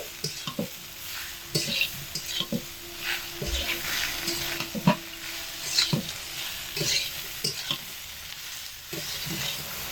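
Shukto vegetables with turmeric sautéing in a pan, a steady low sizzle broken by frequent spatula scrapes and taps in an uneven rhythm, close and moderate, without speech.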